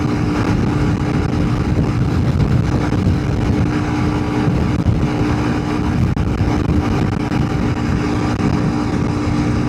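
Big bore Honda CRF300L Rally motorcycle cruising at high speed, a loud, steady engine drone buried in constant rushing wind buffeting, no talk over it.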